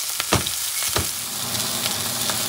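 Ribeye steak searing in a hot pan for a Southern-style dish, a steady close sizzle and crackle with a few sharp pops, no talking.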